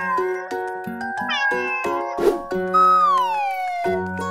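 A cartoon-style cat meows in a children's ABC phonics song, a drawn-out, sliding meow that rings clearly over bright synthesized music notes.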